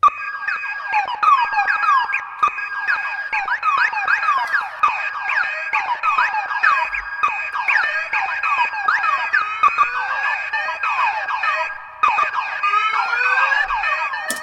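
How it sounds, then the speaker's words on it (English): Many car alarm sirens layered into a dense musical collage, with warbling, sweeping tones stacked together, loud and continuous throughout with no pauses. "So this is all of the car alarms put together now."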